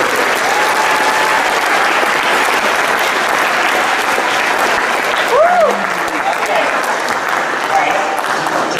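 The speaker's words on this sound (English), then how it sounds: "So please help me give a round of applause." An audience at a school district talk applauds steadily for nearly nine seconds, a dense, even wash of clapping from many hands with a brief whoop partway through.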